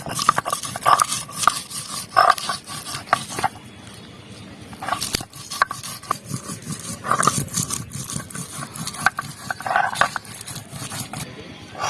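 Chalta being ground with cardamom pods and green chillies, giving a steady run of scraping, grinding strokes with scattered sharper knocks, close and fairly loud, with no talking.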